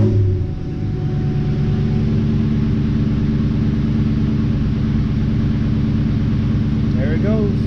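A Ford Mustang from the 1994–2004 generation starts and settles into a steady idle, its engine rumbling loud and close the whole time, with a brief voice near the end.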